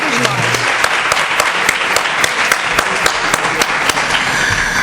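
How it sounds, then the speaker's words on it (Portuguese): A seminar audience on Brazil's Ministério Público and juvenile offences breaks into sustained applause for colleagues, a dense wash of many hands clapping steadily throughout, loud and fairly close. "Uma salva de palmas para os nossos colegas."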